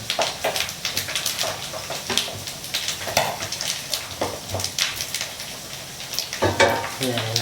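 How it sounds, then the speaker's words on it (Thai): Pork fat pieces fry in hot oil for Thai pork cracklings while being stirred: a continuous close sizzle with rhythmic scraping and stirring strokes, faint voice now and then. "พยายามคนนะครับ เอาที่มันอยู่ข้างบนให้มันลงด้านล่างบ้างนะครับ ให้มันรีดน้ำมัน"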